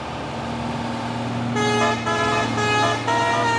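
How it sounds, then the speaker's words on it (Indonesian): A truck's melodic telolet horn plays several short tonal bursts over a steady engine rumble, the musical notes shifting pitch in a quick pattern. "Truk coklat, ada telolet."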